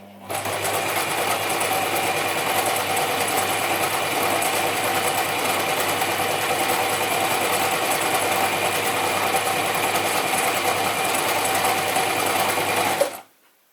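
Gritzner 1002 or Pfaff 307 sewing machine stitching through several layers of fabric, running at a steady, even rhythm for about thirteen seconds before stopping abruptly.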